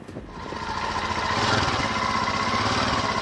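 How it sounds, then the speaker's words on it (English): Royal Enfield Himalayan motorcycle engines catch after a cold night outdoors and settle into a steady, loud, close mechanical thrum that builds in the first half-second and then holds even. "Reassuring start, they all start after spending the night out in the cold."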